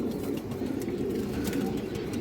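Pigeons kept by a breeder coo in a steady low murmur, a continuous soft rumble close by with no talk.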